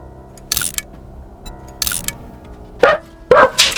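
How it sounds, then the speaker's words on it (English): A dog barks at the postman, four sharp barks well spaced apart in short bursts, close and fairly loud over a quiet background with no talking. "The dog decided she wanted to eat postman."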